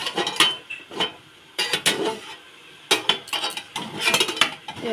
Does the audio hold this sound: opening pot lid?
yes